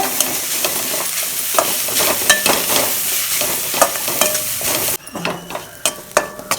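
Radish, grated coconut and coriander sautéed in a pan for radish chutney: a steady sizzle with repeated scraping stirs of a spoon against the pan, growing quieter near the end.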